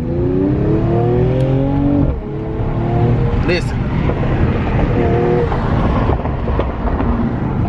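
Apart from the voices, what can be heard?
Mercedes AMG sedan engine accelerating hard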